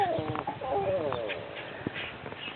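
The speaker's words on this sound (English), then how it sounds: "Look at the poor chickens." Chickens cluck and call nearby in short, pitched bursts that overlap one another, with some faint background noise.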